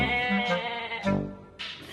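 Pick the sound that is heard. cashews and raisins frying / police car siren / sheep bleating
sheep bleating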